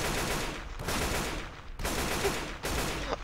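Gunfire in the video game Left 4 Dead 2, three sustained loud automatic bursts separated by brief gaps, close and harsh with no talking.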